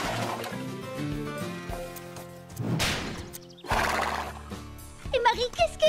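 A cartoon horse neighs loudly in a western riding episode, a long whinny followed by sloshing and hoof clatter, all set against a background music score.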